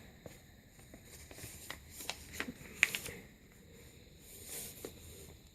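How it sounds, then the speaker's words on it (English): Paper rustles and crinkles as a sheet is folded in half for a paper airplane, with scattered sharp creases and soft handling sounds close by. "And I fold the paper in half."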